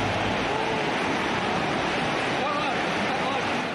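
Floodwater in a flooded region rushes and roars, sweeping cars away in a loud, continuous broadband wash that stays close and steady throughout, with a hint of wind noise.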